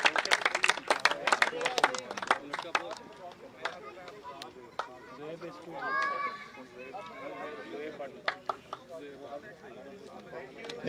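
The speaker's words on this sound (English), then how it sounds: "could we please have a big round of applause" Scattered clapping from a small crowd, uneven and fading in and out, with voices talking and cheering over it.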